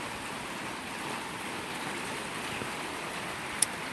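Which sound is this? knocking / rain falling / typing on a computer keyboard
rain falling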